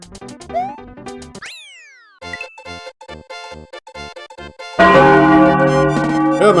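Loud chiptune chimes and ringing bell tones from the Super Mario World video game, a sharp bright sequence of pitched dings and a rising sweep, ending in a dense, clanging bell burst.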